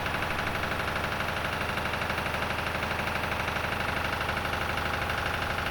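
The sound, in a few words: Lister emergency fire pump engine running, warming up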